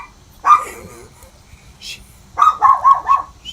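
A dog gives one loud bark, pauses, then lets out a quick run of three or four yappy barks close to the listener, with little else around.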